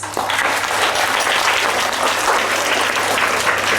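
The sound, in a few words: children clapping for themselves at a school assembly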